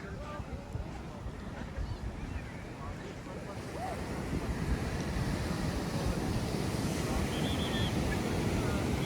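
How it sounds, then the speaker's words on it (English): Surf breaking on the beach in front of Sweetwater Lake at Arambol, Goa, with waves of about two feet rolling in as a steady, broad wash that grows louder midway, mixed with wind buffeting the microphone. "this is the biggest surf I've seen coming in"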